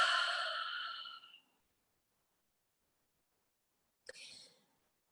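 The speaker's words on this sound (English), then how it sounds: "take a deep breath in for everybody, deep breath in for the collective" Several people in a group wellness session take a deep breath in together, a broad breathy inhale lasting over a second, then a short second breath sound after a pause of silence.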